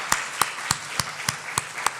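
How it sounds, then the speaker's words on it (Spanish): A church congregation claps in unison during a Spanish-language sermon, about eight sharp, evenly spaced claps in a steady rhythm, moderately loud in a reverberant room. "Démosle un aplauso al Señor."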